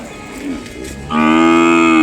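Calves and cows at a cattle market, with one loud, drawn-out moo rising sharply after a second of quieter low lowing and shuffling, close to the microphone.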